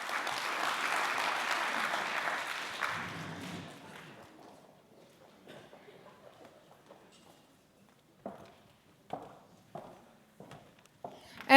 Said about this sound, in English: they deserve an applause as well